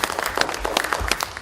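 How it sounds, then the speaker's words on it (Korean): Audience in a parliamentary caucus meeting hall applauding for a few seconds, a dense patter of many hands clapping at moderate loudness with no talk over it. "박수 부탁드립니다."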